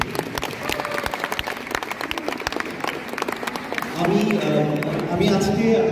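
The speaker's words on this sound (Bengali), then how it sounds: "এটার জন্য সবার জন্য একটা জোরে করতালি" Loud crowd applause at the closing ceremony of an intra-university sports tournament, a dense burst of clapping that swells near the end, with a voice speaking over it.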